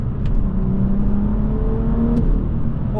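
A BMW engine with an active exhaust valve revs in second gear, a steady rising drone with a low exhaust rumble that holds near and loud for about two seconds before easing off.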